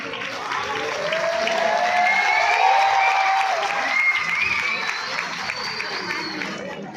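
Applause from an audience at a school annual day carries on for several seconds, with a voice talking over it and the clapping swelling in the middle before easing off.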